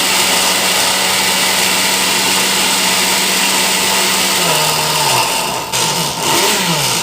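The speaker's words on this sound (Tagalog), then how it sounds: "So, blend niya lang ng ganyan" A blender making fresh juice runs continuously on speed setting 2 with a loud, steady whirring drone; its motor pitch drops near the end as the load shifts.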